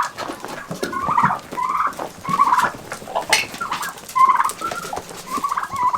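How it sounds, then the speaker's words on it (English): Repeated turkey gobbles and clucks from a group of birds, several overlapping calls rising and falling over a steady barn-like background. "I'm going to go in here and see if I can't flush these turkeys out and see what they do."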